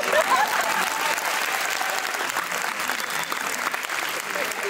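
Sustained applause from a conference audience, loud and close, with dense overlapping clapping throughout and a faint murmur of the crowd.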